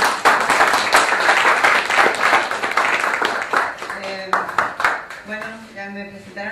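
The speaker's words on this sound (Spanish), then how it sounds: "ese aplauso para el artista" Audience applause and clapping for an artist at a talk on muralism and painting, a dense burst of claps that thins out toward the end as a voice begins speaking.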